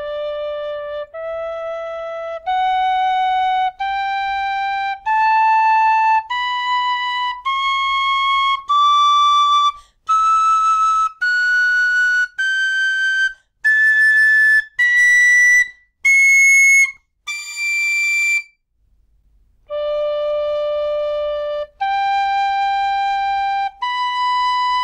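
A Tony Dixon 'Mui Cosht' tin whistle, played against a tuning app, plays a clear rising scale of single held notes climbing through two octaves, each note separated by short breaks, then drops back low for a few final tones; played alone and close.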